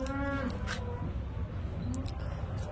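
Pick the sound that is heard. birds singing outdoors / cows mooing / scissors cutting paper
cows mooing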